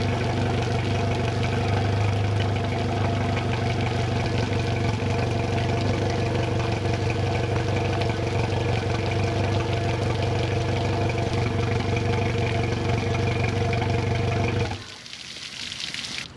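A Mercury 115hp outboard on a 2008 Lund Explorer 1825 SS idles with a steady, loud, close drone for about fifteen seconds, then cuts off, leaving quieter background noise.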